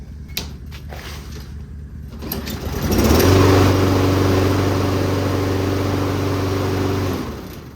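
A Toro walk-behind lawnmower engine is pulled over and catches, then runs at a steady, loud idle for about four seconds before cutting off, with faint handling clicks beforehand and no talk.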